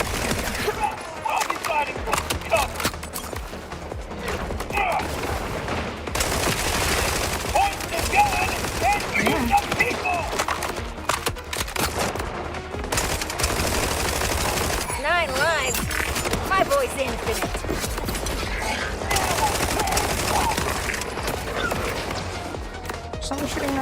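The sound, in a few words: gunfire in a video game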